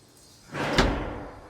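The canopy door on a Toyota Hilux pickup swings shut with a single close, soft whoosh and a dull thud, then a short fading rumble.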